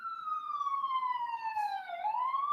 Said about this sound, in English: Holding for sirens outside.